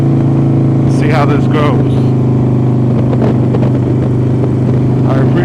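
Motorcycle being ridden, its engine droning loud and steady throughout with small surges, while someone talks over it near the microphone.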